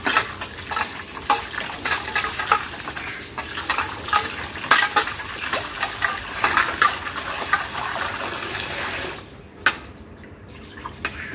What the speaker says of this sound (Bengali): মায়ের মাছ ধোয়া কমপ্লিট।